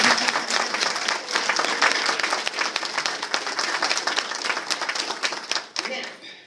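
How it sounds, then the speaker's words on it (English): A crowd claps in sustained, dense applause at a live talk event, loud and steady throughout before tapering off at the very end. "So can we applaud?"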